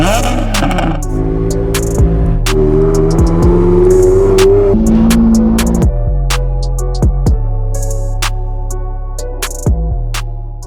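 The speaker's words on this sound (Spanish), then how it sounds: "Este es un Ferrari 360, modelo año 2000, cambio F1, 400 caballos" A 2000 Ferrari 360 with an F1 gearbox and 400 horsepower revs up loudly, its engine note climbing and dropping through several sharp blips and gear changes before settling into a steady, high-pitched drone.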